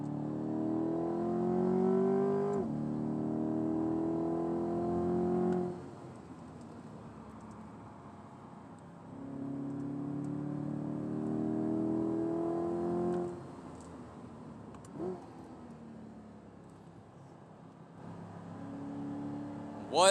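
A 2023 Corvette C8 Z51 on a race track, its engine heard from inside the cabin in repeated rising pulls under acceleration, each dropping away on lifts and gear changes, steady and moderately loud with no talking.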